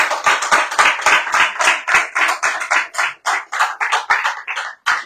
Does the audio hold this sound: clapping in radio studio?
yes